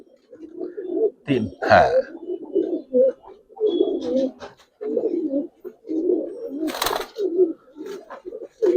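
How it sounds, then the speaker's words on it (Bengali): Large Giribaz pigeons at a bird market: repeated close, throaty coos in uneven bursts, with a brief sharp noise near the end and a short spoken reply in the background. "অনেক বড় সাইজের কবুতর"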